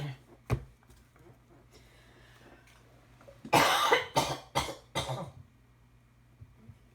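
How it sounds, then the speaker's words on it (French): A woman coughs in a quiet room, one sharp cough early and then a loud burst of several rapid coughs in a row, close to the microphone. "j'espère que vous m'entendrez pas trop tousser."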